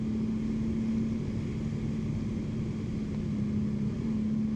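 Steady, droning engine of a 2025 Honda Goldwing touring motorcycle under way in fourth gear, a constant low hum with a sustained tone and rushing wind noise, holding level without any talk.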